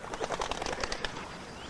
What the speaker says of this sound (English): Wood pigeons make a noisy clatter of wings when they're disturbed.